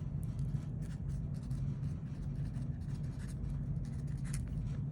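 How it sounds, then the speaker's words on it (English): A pen writes steadily against a constant low hum, producing faint scratchy strokes with no talking. "if my pen will write"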